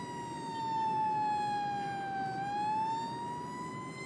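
A Global Rescue fire truck's electronic siren wails steadily, its pitch dipping slowly and rising again, loud and close with a low engine rumble underneath.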